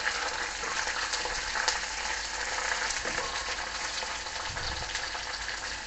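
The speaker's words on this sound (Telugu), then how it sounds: "ఇప్పుడు ఈ అల్లము, వెల్లుల్లి కూడా వేసి వేయించేసుకుందాం." Ginger, garlic and green chillies fry with a large onion in hot oil, making a dense, steady, continuous sizzle that stays close and even from start to finish.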